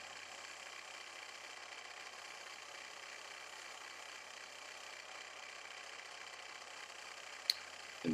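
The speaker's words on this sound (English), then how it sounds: "now I'm using a skew chisel on its side to get the surface perfectly flat" A wood lathe runs steadily while a skew chisel, laid on its side, flattens the turned surface of a paper towel holder. The cut makes a continuous, even whirring hiss, with a sharp tick near the end.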